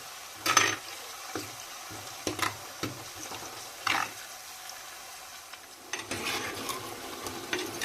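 Onion, ginger, garlic and brinjal fry in a village-style pan, a soft hiss broken by scattered scrapes and stirring clatters, fairly quiet and close.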